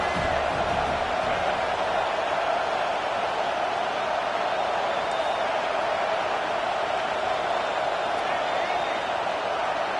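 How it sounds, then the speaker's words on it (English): A football stadium crowd roars steadily and loudly behind the home defense on third down, a dense, unbroken wall of cheering that holds for the whole stretch. "Decibels rising as the crowd gets behind this defense on third down."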